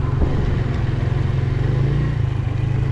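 A motorcycle engine drones steadily and close on a forest route, a continuous low rumble with slight rattling, as if heard while riding.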